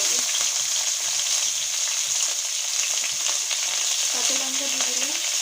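Potato, onion and whole garlic fry in a pan with bitter gourd, giving a steady loud sizzle, with occasional stirring and clinks from a utensil, close up and without talk.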